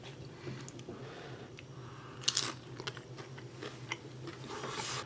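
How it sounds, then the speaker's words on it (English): Biting into and chewing pan-fried waterfowl potstickers up close, a sharp crunchy bite followed by softer, quieter chewing and faint squishing against a low steady hum. "Try our first bite."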